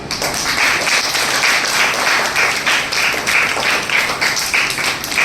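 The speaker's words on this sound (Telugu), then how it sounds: "అందుకు వరుసగా ఒకసారి క్లాప్స్." A crowd at a dance studio certificate ceremony claps steadily in sustained, dense applause that stays loud and even throughout.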